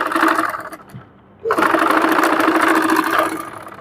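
A sewing machine stitches thin elastic onto a sleeve cuff with a steady, close mechanical whir that stops briefly and then starts up again for the rest of the run.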